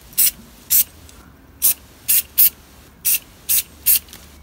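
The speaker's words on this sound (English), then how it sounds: "casually spray that on some areas" Hairspray from an aerosol can is sprayed onto OO gauge model railway scenery in eight short, sharp hissing bursts at an uneven pace, close up with nothing else heard.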